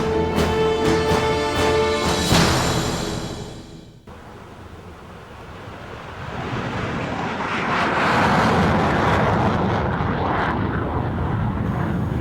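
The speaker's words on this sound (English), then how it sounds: "Behind me, an American F-16 fighter aircraft." An American F-16 fighter jet heard from outside, its engine a loud broadband roar; a tonal whine fades out, then a steady rushing jet roar swells and holds.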